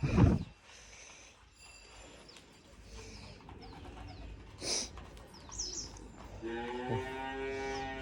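Pigeons coo nearby in soft, throaty bursts, with a few chirps and a thump at the start; a brief rustle of wings and movement in between.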